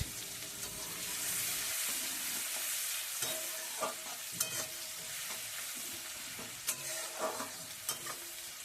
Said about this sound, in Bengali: তেলের ওপর দিয়ে দিচ্ছি কেটে রাখা পেঁয়াজ